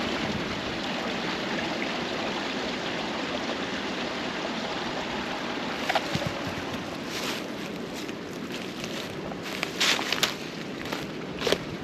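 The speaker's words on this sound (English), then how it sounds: "Underneath the rocks, the water's flowing" Stream water flows beneath rocks in a steady, close rushing hiss that continues throughout, with a few crunching footsteps or crackles breaking through in the second half.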